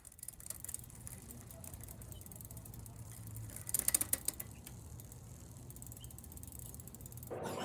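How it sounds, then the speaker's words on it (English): A restored barn-find bicycle is shifted from its highest to its lowest gear. Faint, quiet ticking and clicking comes from the chain and derailleur over a low mechanical whir, with a brief burst of louder clicks midway. "I decided to shift from the highest gear to the lowest gear to see that everything was shifting smoothly"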